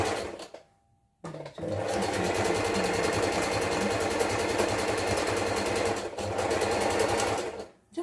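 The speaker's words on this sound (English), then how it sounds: "I'm going to go ahead and do a zigzag stitch right there." A sewing machine runs a zigzag stitch in a steady fast mechanical whir, stopping briefly near the start and again near the end, close and alone.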